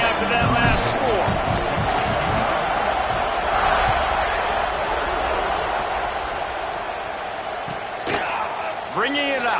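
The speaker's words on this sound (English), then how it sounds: "this crowd is buzzing after that last score" College football stadium crowd at Auburn versus Georgia, a dense steady roar of many voices filling the whole stretch, with a loud announcer talking over it and a couple of whistles near the end.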